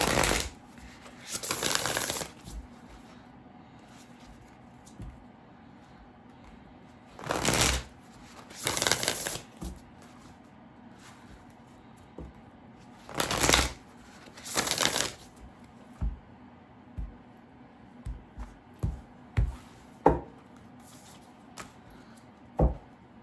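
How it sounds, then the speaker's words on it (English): An Earth and Bone Oracle deck is shuffled in several separate bursts of brisk riffling and flicking, close to the microphone, with quiet pauses and soft taps between them. "I'm gonna pull an oracle card first from the Earth and Bone Oracle."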